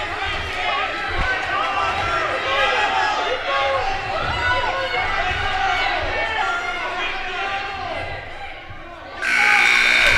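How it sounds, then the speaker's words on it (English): Crowd noise and echoing chatter fill a school wrestling arena, then a loud, sustained electronic buzzer blares near the end. "And the buzzer will sound"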